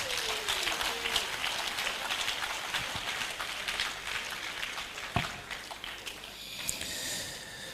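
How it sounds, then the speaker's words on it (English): A crowd at the 12th President John Evans Atta Mills Commemorative Lecture claps steadily in a dense, even wash of applause that carries on throughout, with a few sharper claps standing out. "give him another round of applause"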